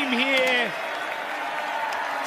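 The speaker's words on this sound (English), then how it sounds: "The crowd right behind him here." At the X Games Sydney 2018 skateboarding contest, a crowd cheers Nyjah Huston with a steady roar and scattered applause, mixed with a brief whistle-like call at the start and a commentator talking.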